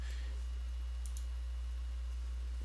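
A computer mouse gives a quick pair of light clicks in the Snipping Tool over a constant low electrical hum, then the room goes quiet.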